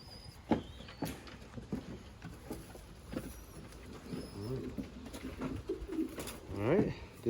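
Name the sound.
racing pigeon cooing, Clausen Hubin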